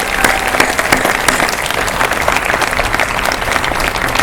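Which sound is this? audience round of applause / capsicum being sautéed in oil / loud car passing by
audience round of applause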